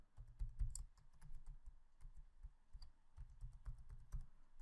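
A password goes in on a computer keyboard in two quick bursts of soft, close keystrokes with a short pause between, quiet and clicky with no voices.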